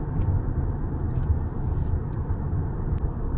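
A 2026 Hyundai Santa Fe SEL out on the road, its cabin full of a steady low rumble of engine and tyre noise that holds even and unbroken from start to finish, with no talk.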